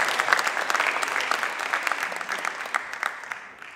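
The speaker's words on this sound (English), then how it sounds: "Give them a big round of applause" Audience at a hypnotist's stage show applauding the volunteers, brisk, dense clapping that holds steady and then fades out near the end.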